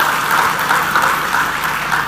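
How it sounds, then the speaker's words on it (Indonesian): A crowd at a large outdoor religious declaration event in Banten Lama applauds loudly and continuously, with a steady low hum running beneath the clapping. "Berikan tepuk tangan untuk TNI dan Polri kita."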